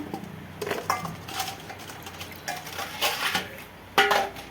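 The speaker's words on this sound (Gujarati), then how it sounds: "હાલો આપણે હવે કુકરમાં નાખી દઈશું આને" Small whole potatoes for Kathiyawadi dum aloo dropped into a pressure cooker, giving scattered clinks and knocks against metal, a few louder thuds near the end, close up with no talk.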